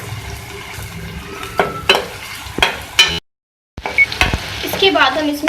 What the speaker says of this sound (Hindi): इसको फ्राई कर लें।